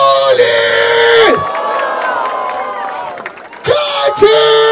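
Crowd at a Brazilian freestyle rap battle in Barueri roars and whoops loudly, the cheering swelling then dipping before surging again near the end, with shouted voices mixed through the noise.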